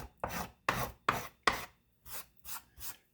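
Small hand planes shave a wooden top plate, producing seven crisp rasping strokes in a steady rhythm, each with a sharp attack and a short papery tail, close and moderately loud with no voices.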